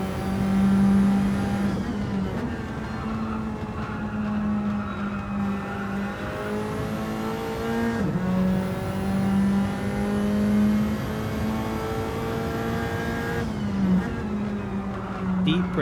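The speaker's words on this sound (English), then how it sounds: "Car seems very planted, going around the carousel." A race car in a racing video game sweeps through the banked carousel turn, its engine holding a loud sustained droning tone that dips and rises with gear changes, under intermittent commentary.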